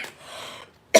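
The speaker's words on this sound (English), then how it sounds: "every time I've been saying some real stuff, I keep coughing" A person coughs: a sharp, loud cough bursts at the start and another at the very end, with a faint breathy stretch between, close to the microphone and with no talk.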